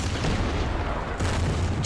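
Booming artillery and explosion blasts from the WWII strategy game Order of Battle, a dense, continuous barrage of low thuds with a fresh burst near the end, no talking.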